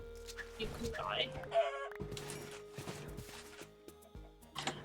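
Sulfur chicken clucks in modded Minecraft against background game music and other game sounds, with a voice talking over parts.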